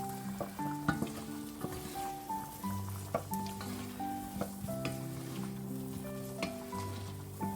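Onions sizzle in melted butter in a pan for chicken and mushroom risotto, with a steady crackling hiss punctuated by frequent clicks and clatters of utensils against cookware.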